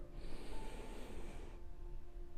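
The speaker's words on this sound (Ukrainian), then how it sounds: "Вдих." A single slow, deep inhale taken during a guided breathing exercise for stress and anxiety, with a broad airy hiss that swells for about a second and a half, then fades into quiet room tone.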